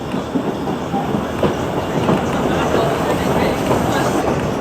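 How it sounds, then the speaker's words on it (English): A White Pass Scenic Railway train in Alaska rumbles past loudly and steadily, a dense roar of wheels and rails that holds for several seconds, with some voices mixed in. "And here comes the other train."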